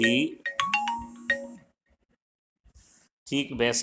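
A phone ringtone plays a bright melodic tune, then stops; after a pause a person starts talking.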